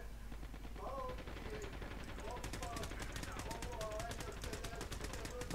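Call of Duty Mobile gunfire crackles as rapid automatic bursts, faint and a little distant, under people talking casually throughout.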